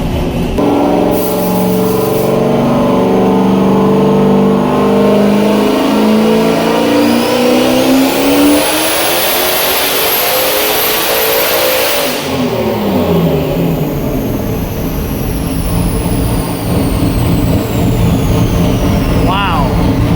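A Mazda Miata engine running 30 pounds of boost and nitrous revs hard on a dyno, climbing steadily under load, a high turbo whine rising over the roar, with a stutter, then drops back into loud idle.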